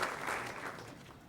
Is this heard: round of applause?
yes